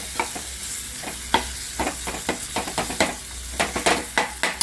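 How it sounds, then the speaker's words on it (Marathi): Tomatoes frying and being stirred in a pan for an egg masala curry, with a steady sizzle broken by repeated scraping strokes of a spoon at an irregular rhythm, close and moderately loud, no talking. "टमॅटोला भाजू द्यायचं हो पूर्ण टमॅटो आपले मॅच झाले"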